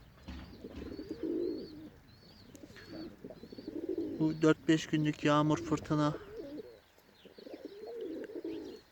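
Pigeons or doves coo in a home garden, soft repeated calls with a few chirps, while someone talks over them close by.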